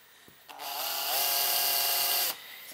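A power drill spins up to start a hole through a metal tab while fabricating a tube amplifier headphone adapter, a steady high whine held for about two seconds and then cut off, close and loud.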